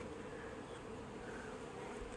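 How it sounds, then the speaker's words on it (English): Steady, dense buzzing of many honey bees on a comb close up, a continuous drone of beating wings with no voices. "you feel the vibrations of the wings beating, and that's how they're talking"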